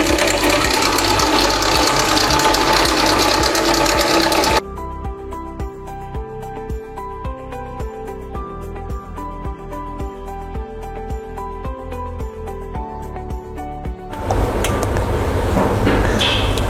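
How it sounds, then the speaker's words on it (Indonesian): Electric mixer beating rainbow cake batter at high speed, a steady whirring drone with rhythmic pulsing, loud and close, with a louder bright stretch at the start and end. "Kemudian kita naikkan speednya menjadi speed yang tinggi ya. Kita mix dan kita tunggu sampai mengembang kental dan berjejak"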